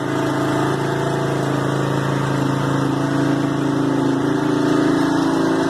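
An old vehicle engine with a carburetor, started after sitting in a pasture for five years, idles steadily and close by, a continuous droning rumble with no voices.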